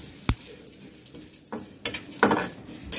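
Sesame seeds and garlic sizzle and pop in a hot wok for til bata, with sharp crackling bursts and stirring scrapes over a steady frying hiss; no talk.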